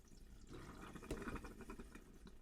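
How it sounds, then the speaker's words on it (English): Water gurgles and trickles as it drains back down from a motorhome's bathroom sink tap, a soft, steady bubbling that swells briefly midway, alone with no voices. "Bit of gurgling."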